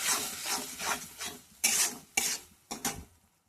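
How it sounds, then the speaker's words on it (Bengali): A spoon scrapes and stirs spices with chili powder in a frying pan, making rasping strokes in uneven bursts, with several louder, sharper scrapes toward the end. "আর এই যে লঙ্কার গুঁড়োটা দিলাম, দিয়ে এবার ভালো করে কষিয়ে নিই"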